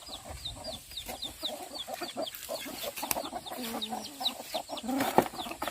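Chickens clucking in a village in the middle of a forest, a steady run of short repeated clucks close by, with a few louder calls near the end.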